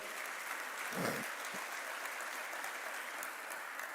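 A church congregation applauds in praise during a Spanish-language sermon, a steady broadband wash of clapping with no voices, moderately loud and even throughout.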